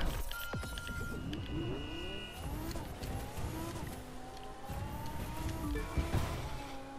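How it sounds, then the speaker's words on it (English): Car engines in The Crew 2 racing video game, rising and falling revs with gear-shift sweeps, tire noise and passing cars, continuous and fairly loud throughout with game music faintly mixed in. "Engine noises."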